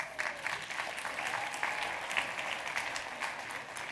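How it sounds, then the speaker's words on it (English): A crowd applauds steadily, many hands clapping in a dense, sustained wash with scattered sharper claps standing out, fairly close and continuous for several seconds. "Clap it up."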